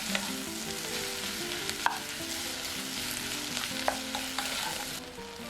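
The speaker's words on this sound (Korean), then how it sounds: "잠시 후 어묵을 넣고 중불로 줄인 후 볶아줍니다" Fish cake stir-fries over medium heat with carrot and green onion in two spoons of cooking oil, giving a close, even sizzle with a couple of faint utensil taps.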